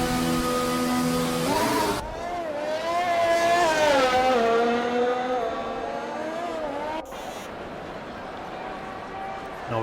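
Race cars on a track in Italy, a Renault among them, roar past with rising and falling engine pitch that climbs through gear changes, loud and near, a commentator talking over the engines throughout.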